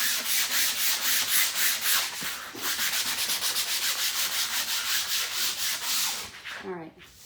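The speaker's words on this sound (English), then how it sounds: "you're going to grab a sanding paper and you're going to sand your canvas." Brisk back-and-forth sandpaper scraping on a canvas, close and steady, ending with a short squeaky rub as the strokes stop.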